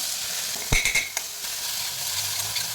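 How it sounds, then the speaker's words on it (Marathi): Mustard seeds, cumin, asafoetida and green chili paste sizzle in hot oil for a potato dry curry, with a brief burst of crackling and a spoon stirring near the start, then a steady soft frying hiss. "त्याच्यासाठी तेल, थोडीशी मोहरी, जिरे, हिंग, हिरव्या मिरचीचा केलेला ठेचा घालून घेऊया"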